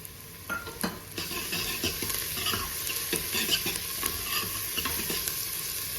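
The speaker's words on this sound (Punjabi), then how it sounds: "ਹੁਣ ਆਪਾਂ 2-3 ਮਿੰਟ ਲਈ ਭੁੰਨਾਂਗੇ ਲਸਣ ਅਦਰਕ ਪਾਉਣ ਤੋਂ ਬਾਅਦ" Ginger, garlic and green chili fry in a pan for a turnip and fenugreek vegetable dish, a close, steady sizzle broken by repeated scraping stirs and light taps of a spoon against the pan.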